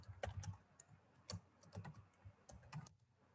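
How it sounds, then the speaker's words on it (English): Typing on a computer keyboard, with irregular bursts of sharp key clicks close by, some quick runs and brief pauses, no voices. "I am typing over here"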